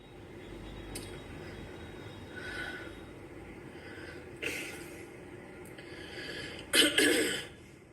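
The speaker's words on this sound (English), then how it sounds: "You know the way she coughed right now like that?" A woman coughs a few times in short, sharp bursts, with the loudest cough near the end, over a steady rumbling background.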